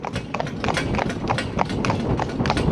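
Frank, a cob horse, trots with brisk, evenly spaced hoofbeats close by, a steady rhythmic clip-clop that fills the moment with little else around it.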